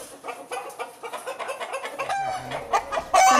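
Chickens being held and handled for artificial insemination at a farm demonstration cluck steadily in quick, repeated bursts, with a louder squawk near the end.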